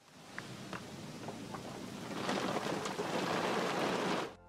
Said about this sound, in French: ce que vous voyez ici est simplement le bord d'un nuage de pluie qui est tombé au milieu d'une rue à Kerala en Inde